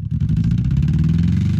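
4x4 Chevrolet Blazer doing a rim burnout: a loud, close engine roaring at sustained high revs with a steady low rumble and gritty grinding texture throughout, no speech.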